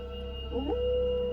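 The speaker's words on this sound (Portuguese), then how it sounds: "um forte uivo veio do portão principal" A monster's howl in a horror tale, a single rising then sustained howl over a steady low drone, fairly loud and alone.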